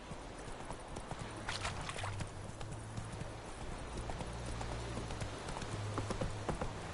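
Horse hooves clip-clop at a steady walking pace in The Witcher 3, a close, even rhythm over a low ambient drone with no clear talk.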